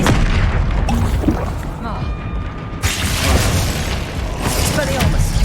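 In Hogwarts Legacy, a Glacius freezing spell goes off with a loud, close, booming crackle followed by icy mechanical rumbling and bursts, while a voice calls out over the effects.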